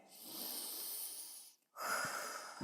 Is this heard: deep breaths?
yes